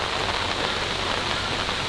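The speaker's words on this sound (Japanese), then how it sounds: "すごいよ、雨が。" Heavy rain pours steadily onto an outdoor golf course, a dense, even hiss with no voices over it.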